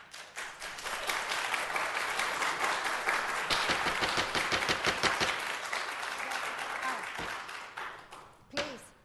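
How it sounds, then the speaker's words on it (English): An audience at a city council meeting breaks into sustained applause, dense overlapping claps that swell and then taper off toward the end, heard fairly close in a meeting room. "Refrain from clapping."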